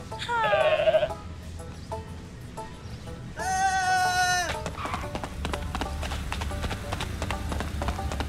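Goats bleat in Goat Simulator 3, two loud wavering cries spaced a few seconds apart over a steady background of game ambience and clopping steps.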